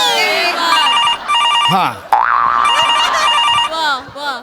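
A telephone rings with a melodic, electronic ringtone in repeated bursts, loud and close, with comic boing-like sound effects and a brief spoken interjection amid the ringing on a comedy stage show.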